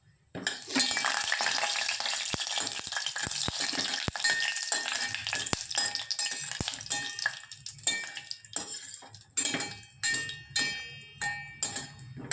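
Almonds frying in ghee for sago jaggery payasam make a bright, steady sizzle, with repeated clinks and scrapes of a utensil stirring against the pan, close and without voices.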